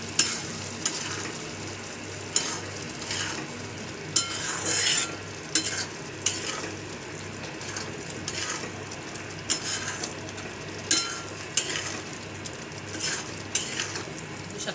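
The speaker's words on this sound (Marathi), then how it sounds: "हे सगळं चांगलं मॅश करूया." Prawn gravy with masala mashed and stirred in a pan: a ladle knocks and scrapes against the metal in a loose, steady rhythm of sharp clicks over a soft, constant sizzle, close and alone.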